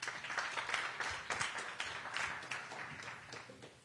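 Scattered applause from the audience at a school committee public hearing, fairly quiet and uneven, with individual claps standing out against a thin room murmur.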